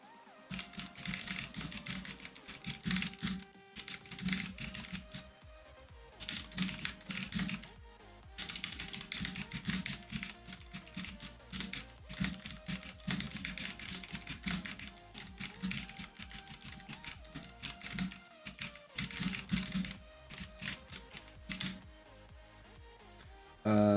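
Rapid clacking keystrokes on a computer keyboard come in dense bursts with brief pauses, close and fairly quiet over soft game music in the background.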